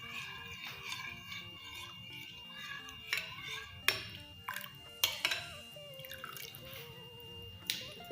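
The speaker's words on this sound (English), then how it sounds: "So I'm going to mix it very well, just the way I'm doing it." Glycerin being stirred into a homemade toner mixture, with quiet repeated tapping and clinking of a utensil against a container and soft liquid swishing, close and faint.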